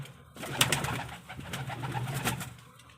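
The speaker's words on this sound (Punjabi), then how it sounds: "ਮੈਂ ਇਹਦੇ ਵਿੱਚ ਕਬੂਤਰੀਆਂ ਹੈਗੀਆਂ" Soft, low pigeon cooing repeats a few times nearby, with faint background rustles and no talking.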